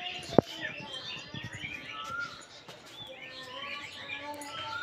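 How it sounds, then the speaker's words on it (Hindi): A koel calls outdoors on an early morning, faint rising whistled notes and chirps heard over soft ambient background noise, with a sharp knock near the start. "कोयल चिड़िया की आवाज सुबह सुबह बहुत प्यारी लगती है।"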